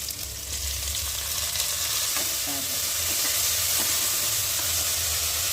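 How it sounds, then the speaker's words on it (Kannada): Fenugreek leaves fry in a pan of onion tempering for a country chicken curry. The close sizzle and hiss hold steady, and a spoon scrapes and stirs now and then. "ಈಗ ಮೆಂತ್ಯ ಸೊಪ್ಪು ಹಾಕ್ತೀನಿ"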